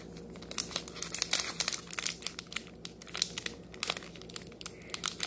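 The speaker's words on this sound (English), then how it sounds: "Okay, this is a hard pack to open" Crinkling and tearing of a Pokemon Ancient Origins card pack's foil wrapper, close and fairly loud, in a quick series of sharp rustling bursts with brief pauses between them.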